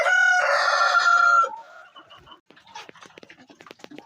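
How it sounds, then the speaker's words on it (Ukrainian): A rooster crows loudly and close, then fainter hens and turkeys cluck and scratch about in a quiet village farmyard in the morning. "Курочки індики все на місці, гарно їдять"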